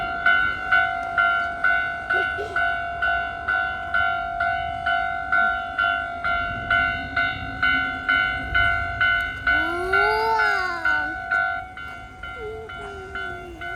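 A train passes a railway level crossing while the crossing bell rings in a steady, loud, repeating rhythm. A horn-like tone rises and falls briefly near the end.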